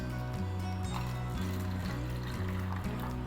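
Water being poured into bowls for homemade playdough: a steady, close trickle with a rhythmic low hum pulsing underneath and no talking.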